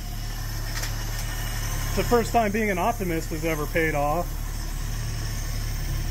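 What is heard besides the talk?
1972 AMC Gremlin engine idling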